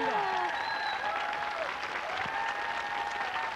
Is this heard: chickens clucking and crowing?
no